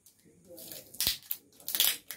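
Crinkly wrapping paper handled on a work surface while preparing to write a calligraphy diploma, producing a few sharp, close rustling crackles and crumples with quiet pauses in between.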